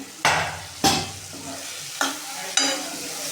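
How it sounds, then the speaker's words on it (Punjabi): A tadka for a light dal of washed split moong sizzles steadily in a pan, with four sharp stirring scrapes and knocks rising over the frying hiss, close and alone. "ਇਹ ਆਪਣਾ ਤੜਕਾ ਹੋ ਗਿਆ ਇੱਥੇ ਭੁੰਨ ਆ ਗਿਆ"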